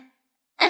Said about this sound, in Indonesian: Aduh, pakai segala cegukan lagi.